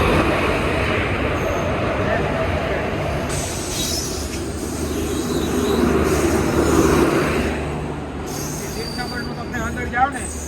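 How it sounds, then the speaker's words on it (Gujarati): Train arriving at Bhatiya railway station: a loud, rolling rail rumble with wheel squeal that swells and eases, and voices of people talking under the noise. "થોડીક જ વારમાં આવે છે હમણાં ટ્રેન"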